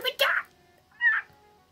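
A cartoonish cat in Zelda: Echoes of Wisdom meows twice, with a short first cry and a clearer second meow a moment later, both close and clean.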